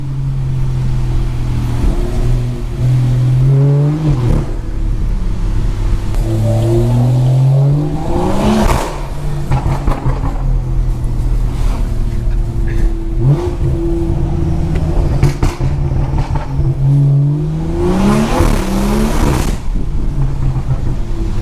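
A straight-piped BMW 340i with a B58 engine revs hard and loud, its raspy exhaust swelling and falling repeatedly, with sharper pops and crackles on several rev drops.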